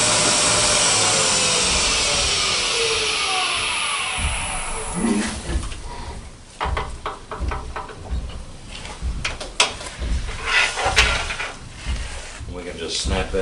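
A wood lathe turns a piece down to about a quarter inch diameter, starting with a loud steady whirring whine that fades, then giving way to close, uneven scraping and rattling cuts.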